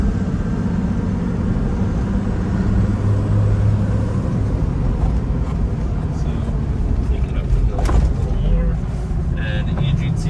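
A 1997 Toyota Land Cruiser HZJ75 turbo diesel climbs a hill, its engine a loud, steady low rumble heard from inside the cabin, with a voice talking over it at times.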